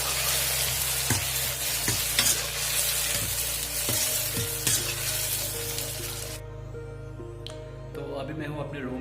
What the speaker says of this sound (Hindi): और प्याज हो चुका है ब्राउन, और अब डालूंगा इसमें टमाटर